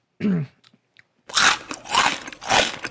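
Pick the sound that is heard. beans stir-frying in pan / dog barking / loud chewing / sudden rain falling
loud chewing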